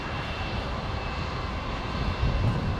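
Jetstar airliner arriving on runway 19 left at Brisbane, a steady broadband engine roar at moderate distance, growing slightly louder toward the end.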